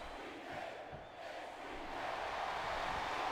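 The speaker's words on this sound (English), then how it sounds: "And the crowd has come alive tonight with a chant directed at the superstars in the ring." Wrestling arena crowd in Smackdown vs RAW 2008 chanting at the superstars in the ring, a distant, steady roar of many voices that swells slightly toward the end.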